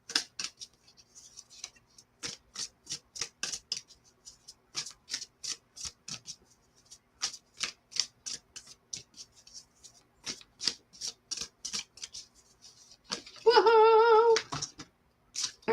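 Tarot cards are shuffled and pulled in a steady run of crisp, close riffling flicks and slaps, with a brief faint tonal chime near the end; no talking.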